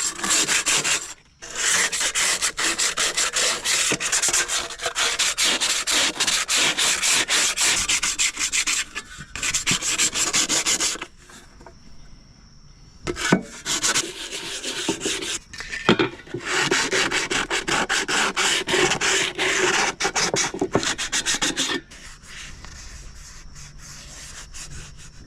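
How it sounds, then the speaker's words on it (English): Sanding a part on a John Deere, with close, loud rasping strokes in long bursts separated by short pauses, and no voices. "I think what I'm going to do is sand this down"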